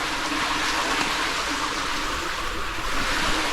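Steady water about five inches deep flows through a pipe set into a stream bed, a constant broad rushing wash with no breaks, fairly loud and close.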